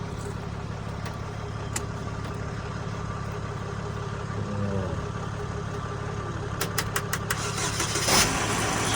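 A car at a police towing auction starts on a battery jump box and settles into a steady idle. The engine hum runs continuously at moderate level, with a brief rise near the start-up and a few sharp clicks toward the end.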